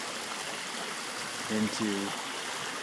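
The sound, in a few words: water flowing in remodeled pond waterfall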